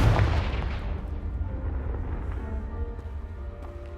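A Confringo spell blasts a pile of blocking debris in Hogwarts Legacy: one loud explosive boom at the start that decays into a rumbling, ringing tail over several seconds.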